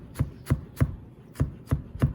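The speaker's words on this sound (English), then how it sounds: "you can make them into juliennes also, which is cutting the slices very" A knife cuts ginger into fine julienne strips on a board. Six crisp, evenly spaced chops land about every third of a second, close and clear.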